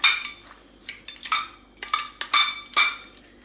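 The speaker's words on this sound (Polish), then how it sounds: "Ja po prostu wkładam nóż i tak kroję galaretki i wychodzi mi kostka." A knife cuts set jelly into cubes in a dish, producing a series of close, sharp metallic clinks and taps against the container in irregular bursts, with no talking.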